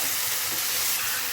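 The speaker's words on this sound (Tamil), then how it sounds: "இப்போ அது மாதிரி போட்டுட்டு இப்போ நல்லா கிண்டி இருக்கலாம்" Onions frying in hot oil in a pan and being stirred for chicken chukka, a dense, loud, continuous sizzle with faint scraping of the stirring underneath.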